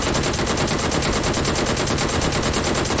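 Gunfire in the video game PUBG, a loud continuous burst of rapid automatic shots that fills the whole stretch with a dense, evenly pulsing rattle and no audible talk.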